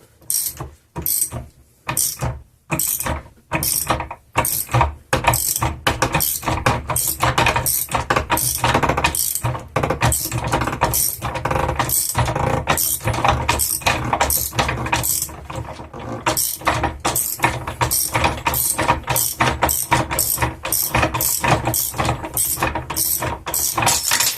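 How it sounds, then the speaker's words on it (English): A standard puller works bearings off a Ford Powershift gearbox during a strip-down, making a long series of rapid, sharp ratcheting clicks in a steady rhythm, loud and close, with brief gaps near the start and no talking. "at this point you need to break those off with a puller, those two bearings"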